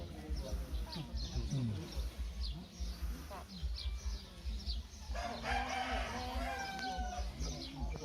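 Chickens crow and cluck at a fairly low level, the calls rising over one another while people talk nearby.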